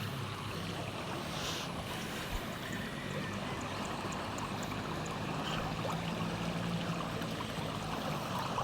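Irrigation water running through a rice paddy, a faint steady trickling and rushing wash outdoors with light wind, continuous and low in level.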